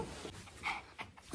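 A pet dog pants close by in short, quick breaths, with a faint whimpery edge to a few of them, as the dog waits eagerly to go out for a snowy outing.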